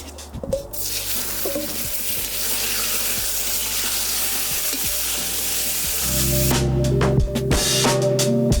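Beef searing for goulash in a kazan, a loud steady close-up sizzle with dense crackle throughout, occasional stirring scrapes and a slight rise in intensity toward the end.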